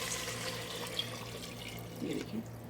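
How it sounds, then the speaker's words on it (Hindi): Water running into a cooking pot of beef kunna, a short, quiet, steady trickle with a faint splashy swell near the end. "अब इसके अंदर पानी शामिल करेंगे।"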